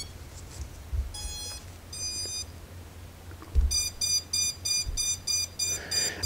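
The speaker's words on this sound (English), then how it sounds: "It'll stop beeping here in a second." An FPV drone's built-in beeper sounds in short, evenly spaced electronic bursts: a brief pair of tones, then a steady run of repeated beeps, close by against a faint background with a few handling knocks.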